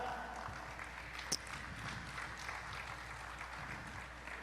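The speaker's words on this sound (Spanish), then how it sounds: "Un fuerte aplauso al Señor por su palabra" Applause from a church congregation, a steady wash of clapping hands at moderate volume with no voices on top.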